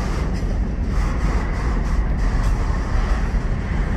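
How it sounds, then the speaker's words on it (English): A freight train on the Kansas City Southern / Union Pacific line between Shreveport and Dallas rumbles past nearby, a steady, dense low roar of rolling cars with no pauses throughout. "Well, I hear a train."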